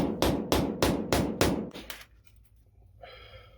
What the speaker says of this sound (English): So I got out my big boy hammer to see if a bit more force would work.